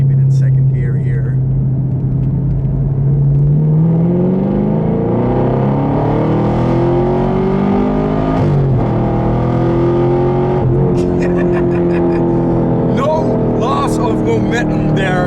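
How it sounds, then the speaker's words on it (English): Exhaust of a 2018 Camaro SS 1LE building steadily as it accelerates in second gear, rising harmonics climbing through each pull with sharp crackles and pops near the end, loud and close with someone talking over it. "That sound, that crackle of that exhaust is just freaking amazing."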